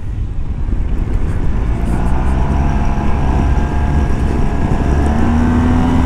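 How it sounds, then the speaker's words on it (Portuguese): A 2022 Yamaha TMAX scooter riding along, its engine drone steady and loud under heavy wind rush throughout, with a rising tone creeping in near the end. "uma pessoa esquece que está basicamente a andar de scooter"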